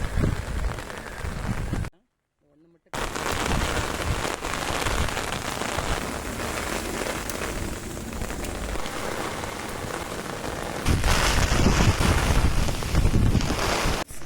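Heavy rain drums steadily on an umbrella during a cyclone while vegetables such as brinjals are harvested in a rooftop garden. The downpour is loud and continuous, with a brief gap near the start and a swell in intensity toward the end.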